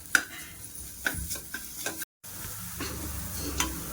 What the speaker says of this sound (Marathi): मी आता त्याच्यामध्ये थोडंसं मीठ, अद्रक लसणाची पेस्ट टाकून छान परतून घेते.